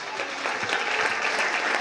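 Brief burst of audience applause at a Christmas-season closing event with a nativity performance, crowd clapping swelling slightly louder after the first moments.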